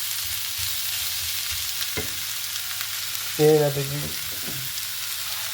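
Sliced tomato and coconut sautéing in a pan for an Angamaly-style pork roast, a steady low sizzle with faint stirring scrapes and one brief louder clatter near the end; a voice speaks briefly.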